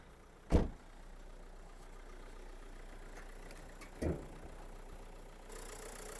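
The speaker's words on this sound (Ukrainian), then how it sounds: "Двигун працює чітко" A Renault Kangoo diesel engine idles with a low, steady hum, broken by two sharp knocks or thumps near the start and midway.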